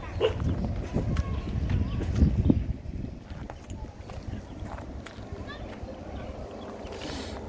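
Dogs bark during an off-leash neighbourhood walk with a Jindo, a few sharp barks bunched near the start over footsteps and outdoor rustle, while people talk nearby.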